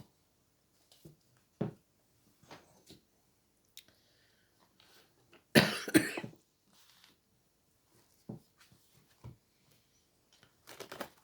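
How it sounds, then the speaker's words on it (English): Scattered coughs and throat sounds break a quiet room, with one loud burst of coughing midway and softer ones near the end. "If the coughing gets too bad, I'll pause the video"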